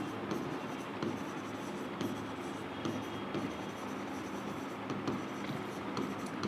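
Marker or chalk writing on a board during an accounting lesson, a steady scratchy scraping with small taps and stroke breaks, close and alone.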